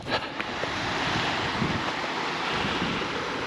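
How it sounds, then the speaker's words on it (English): Running water flowing through a valley near Lake Bala in Wales, a steady broad rushing wash heard from a distance, blended with wind buffeting the microphone, with no talk. "running water down there through the valley"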